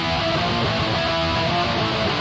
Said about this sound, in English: So the first pair sounds like this without anything.